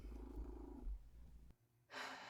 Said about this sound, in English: that is my cat purring